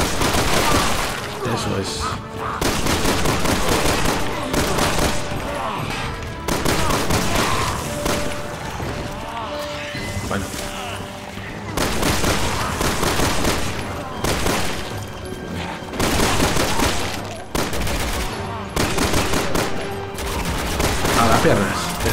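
Dual pistols fire in rapid bursts during Resident Evil 6 gameplay on PS4, dense repeated gunshots with some impact noise throughout, while someone talks over the action.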